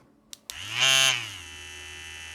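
After two clicks, an EMALLA Grand tattoo pen with kickstart spins up into a louder whining buzz that swells for a moment, then settles into a steady, moderately quiet hum, heard up close.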